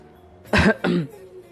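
A person gives two quick, close coughs in succession, the second a little softer and trailing into a throat-clearing rasp.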